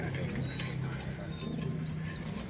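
Pigeons coo on a rooftop in Qazi Ahmed, Sindh, their soft throaty calls rolling close and continuous beneath higher warbling bird sounds.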